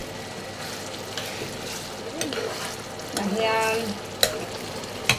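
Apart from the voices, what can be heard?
tomato being stirred and cooked in a pan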